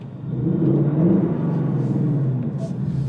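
A 2024 Ford Mustang Dark Horse exhaust in quiet mode idles and revs gently in a low, subdued rumble, steady and fairly close, with no talking.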